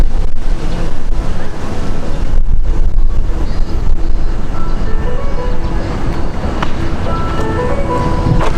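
Strong wind gusts buffet the microphone outdoors at Odaiba in Tokyo, a loud continuous rumbling roar with shifting surges and no speech.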